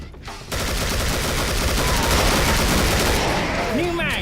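Rapid, continuous gunfire fills a frantic round of the shooter game Killing Floor on PC, loud and dense from start to finish after a brief quiet opening, with a few sharp higher tones near the end.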